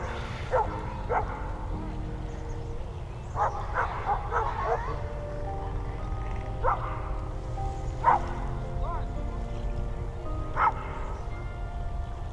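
A dog in Stanley Park gives several short yips and barks at moderate distance, spaced irregularly over steady outdoor ambience, with a person speaking faintly at times.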